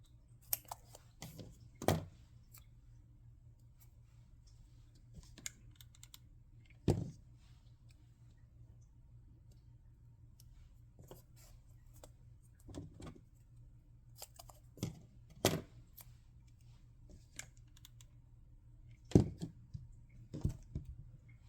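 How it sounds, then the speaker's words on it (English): Scissors snip small paper pieces for a scrapbook cowgirl hat, giving sharp, scattered cuts at irregular intervals over a faint steady background hum. "Actually, I might need to cut smaller pieces."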